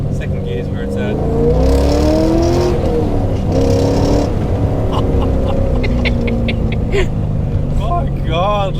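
A car pulls hard in second gear, engine note rising steadily in pitch and loud from inside the cabin, then a shift and renewed climb, with people talking excitedly over it.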